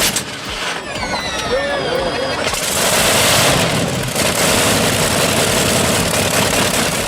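A Wright R3350 18-cylinder, 54-litre radial aircraft engine cold-starts on the ground. Sputtering cranking quickly swells into a loud, continuous, thunderous roar that stays steady and powerful.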